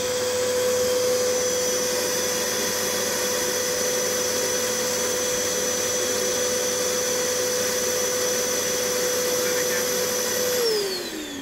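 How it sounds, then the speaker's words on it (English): A household hoover runs with a loud, steady motor whine and airflow roar that holds evenly for about ten seconds, then drops in pitch as it winds down near the end. "Can you switch the hoover back on again"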